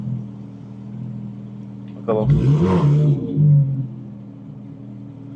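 A car engine idles with a low steady hum, then revs up sharply for about a second and a half in two rising surges before settling back to idle. Someone speaks briefly during the rev.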